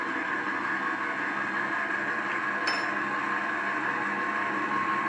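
An electric mixer beats sponge cake batter with flour just added, giving a steady, even motor whir with a faint clink partway through, running alone without any talking.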